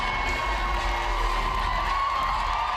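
Dense, steady roar of a sold-out crowd cheering and applauding a runway walk at an Indigenous fashion week show in the Queen Elizabeth Theatre, Vancouver, a continuous wash of noise with no gaps.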